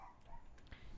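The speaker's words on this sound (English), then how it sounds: "someone has triggered my dog, and I don't know why they've done this" A dog gives a short, faint bark or yip in an indoor room, a single brief sound over steady background hum.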